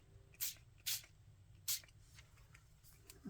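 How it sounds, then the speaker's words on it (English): Short, sharp hisses of distress spray hit piano roll paper: three distinct quick bursts close by, then a couple of fainter puffs, in an otherwise quiet room. "This is distress spray."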